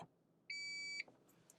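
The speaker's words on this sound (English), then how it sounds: "We're listening for a short and then long beep." One sustained electronic beep from a Lexus ES key fob, about half a second long, rings out clearly in an otherwise quiet space, followed by faint clicks.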